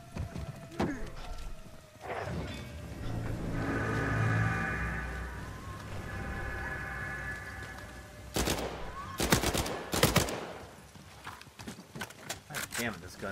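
Gunfire in Uncharted 4 multiplayer, with a few sharp, loud broadband shots clustered near the end over a busy game mix of rumble and clatter.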